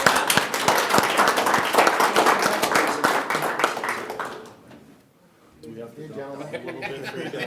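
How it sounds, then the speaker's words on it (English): Audience at a county board meeting claps for a 10-year-old, dense applause mixed with chatter and light laughter for several seconds, fading out, then people talking nearby. "a round of applause for a 10-year"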